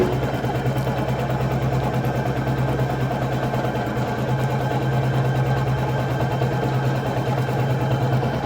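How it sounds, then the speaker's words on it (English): Computerised embroidery machine stitching a quilt design onto a mini quilt in end-to-end quilting, a steady fast mechanical whir with a constant low hum and rapid needle rhythm, close and continuous with no talking. "You see how fast it's embroidering?"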